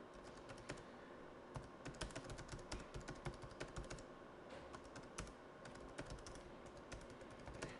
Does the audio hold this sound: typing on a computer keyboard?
yes